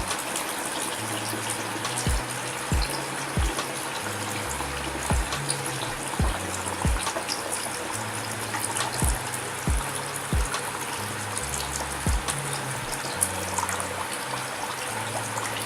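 Water pours steadily from a hole in a container during a simple energy experiment, a continuous gushing stream with intermittent splashy thumps as it lands.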